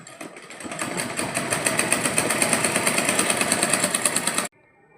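A sewing machine stitches fabric in a fast, even rattling rhythm of rapid needle strokes, loud and close, running steadily for several seconds before stopping abruptly.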